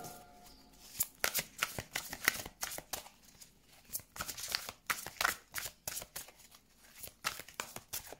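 Tarot cards being shuffled by hand, with repeated soft riffling and sliding bursts in an uneven rhythm, close and fairly quiet, with no talk.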